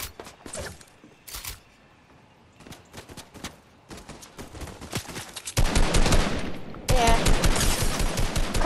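Fortnite gunfire crackles in rapid bursts, sparse shots at first, then dense, loud sustained volleys near the end.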